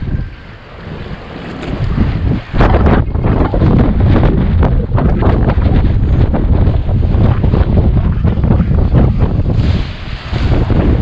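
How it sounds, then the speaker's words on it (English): Strong wind roars steadily across the microphone while waves crash and surge nearby at a harbor mouth by a lighthouse in Nice, France, a loud, continuous wash of rushing air and breaking water. "a crazy spot out here on the corner with the wind blowing and the waves crashing"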